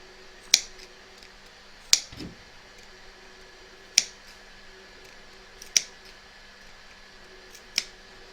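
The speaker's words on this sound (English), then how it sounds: "I'm going to snip into the corners." Sharp scissors snip into the corners of a fabric in-the-hoop embroidered notebook cover, five crisp isolated cuts spaced a couple of seconds apart, close and fairly quiet with no talking.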